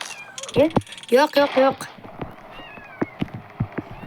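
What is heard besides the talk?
kittens meowing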